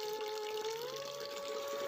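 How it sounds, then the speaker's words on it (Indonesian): Water runs steadily from a bathroom tap, a continuous close splashing flow with a sustained tone humming underneath and no talking. "suara air yang bergemericik dari kamar mandi, seperti ada orang yang membuka keran airnya"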